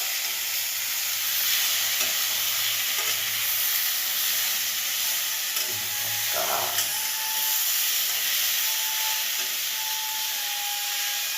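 Greens and onion frying in a pan, a steady broadband sizzle and hiss running throughout with occasional stirring scrapes and soft clatter, fairly close and continuous with no talking.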